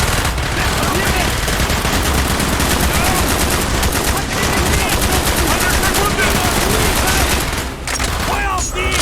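Dense, loud gunfire from Call of Duty: Black Ops, with sustained rapid automatic bursts and overlapping shots filling the whole stretch over battle noise, while shouted voices break through now and then.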